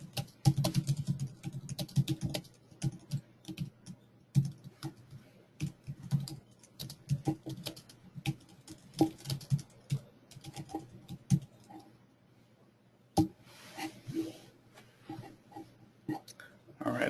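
Keys clatter on a computer keyboard during an online webinar, rapid close-up bursts of clicks and taps that pause briefly near the end, then resume.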